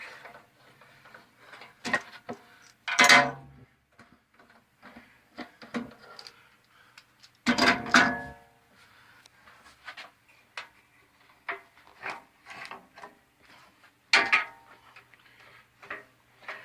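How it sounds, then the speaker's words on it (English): Clamps come off a freshly glued marquetry-style guitar fingerboard in a workshop, giving sparse clicks and light taps broken by two louder metallic clunks, all close by and with no talking. "let's take the clamps off and see what we got"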